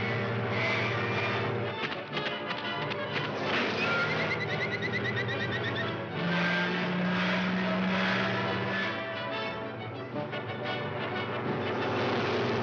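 A cartoon sound effect from the 1935 Looney Tunes short Gold Diggers of '49 imitates an aeroplane taking off, a sustained droning whine with rising and falling tones, heard over steady orchestral music.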